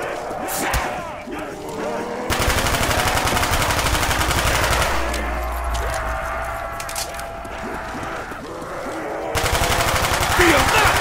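Call of Duty SMG fire during an Ascension challenge, loud rapid bursts that stop and restart, with shouted game voices and thuds in between.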